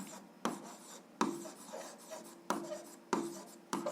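A pen writes on paper at close range, faint scratchy strokes broken by about six sharp taps or lifts at irregular intervals, in a quiet room without voices.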